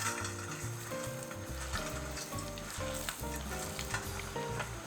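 Chicken karaage pieces sizzle and crackle steadily during a first fry in oil at about 160°C, a busy frying hiss with a low rhythmic clatter running beneath it.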